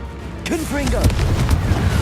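A Confringo spell blast in the Hogwarts Legacy video game, a short burst of booming impacts with a voice briefly over it.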